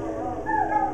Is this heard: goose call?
no